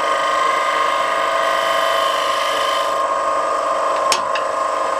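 A square wooden bowl spins on a lathe while being sanded, producing a loud, steady high whine with a constant rubbing hiss and a brief sharp click near the end.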